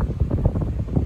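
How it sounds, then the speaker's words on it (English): Wind buffets the microphone on an escarpment trail in the Porcupine Mountains, Michigan, a steady low rumbling roar with gusty fluctuations throughout. "A little windy still."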